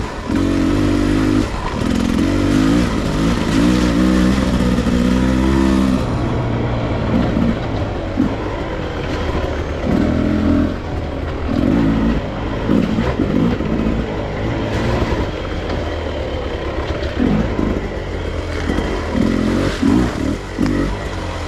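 A 2022 Beta 300 Race Edition two-stroke dirt bike ridden continuously, its engine loud and close with steady droning, rising and falling revs throughout, without talk.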